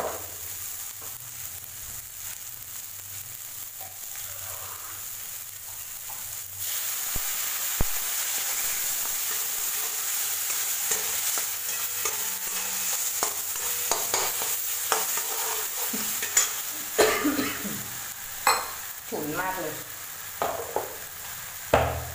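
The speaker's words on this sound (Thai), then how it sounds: "ผัดต่อค่ะ อย่าให้เครื่องแกงไหม้นะคะ" Curry paste stir-fried in a pan for a gadu ka kofta curry, a soft sizzle that swells into louder frying with repeated spatula scrapes and knocks toward the end, no talk.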